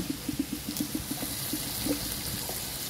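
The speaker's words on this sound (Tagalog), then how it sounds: "Lagyan na rin ako ng tubig." Water pours steadily into a pot, a continuous splashing rush with small bubbling glugs, close and fairly loud, with no talking.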